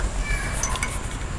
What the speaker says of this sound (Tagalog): Ngayon siya nagmiyaw-miyaw.